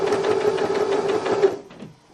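Sewing machine backstitching on a chicken coop fabric project: a fast, steady mechanical whir with rapid needle clatter running for about a second and a half, then stopping, followed by faint handling noise.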